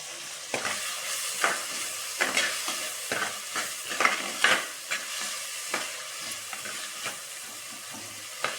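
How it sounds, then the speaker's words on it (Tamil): Small onions with dried red chilies and green chilies sautéing in a pan, a soft steady sizzle broken by repeated sharp scrapes and knocks of a stirring spoon. "சின்ன வெங்காயம் தான் போட்டிருக்கேன். வரமிளகாய், பச்சை மிளகாய் எல்லாமே நல்லா வதங்கணும்."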